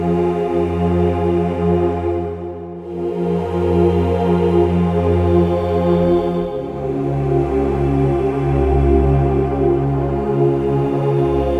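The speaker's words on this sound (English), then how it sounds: "Synth Enchanting is a really atmospheric pad which was inspired by the sounds that came from Rumpler synthesizers" Synth Enchanting, an atmospheric pad preset modeled on Rompler synthesizers, plays sustained, layered chords with a deep bass foundation. It shifts between chords at a slow pace and plays loud and alone for about twelve seconds.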